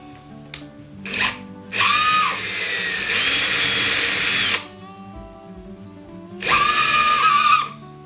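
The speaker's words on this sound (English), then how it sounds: "I'm just going to start them with an 1/8 inch bit." An electric drill with a 1/8 inch bit boring pilot holes into 3/4 inch wood stock, heard as two loud, close bursts of whining drilling, the first about three seconds long and the second shorter, separated by quieter pauses and brief clicks.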